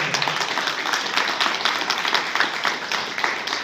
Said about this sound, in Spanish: necesito escuchar un aplauso